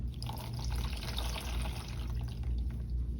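A washcloth is soaked in a basin of water during bedside catheter care, with soft close sloshing, trickling and dripping and no talk.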